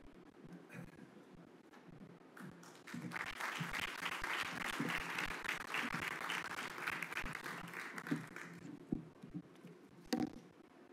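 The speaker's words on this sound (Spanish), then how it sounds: "ese aplauso, de veras que se aprecia mucho" An audience applauds at the launch event for Gestión Transparente Panamá as a minister takes the podium, with dense steady clapping that swells, holds for several seconds, then thins into scattered claps.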